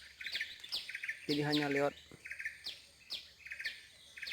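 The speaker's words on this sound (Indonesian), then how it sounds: "Ini ada ribuan mungkin burung yang datang ke sini" A flock of birds chirps steadily in a heavily fruiting banyan tree, many high, repeated tweets overlapping throughout, with a brief stretch of someone talking partway through.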